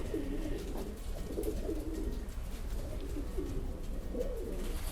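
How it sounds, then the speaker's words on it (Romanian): A racing pigeon in Prahova, Romania coos in low, repeated throaty bursts, close by and steady, over a constant background rumble. "Dar pentru mine e un porumbel drag."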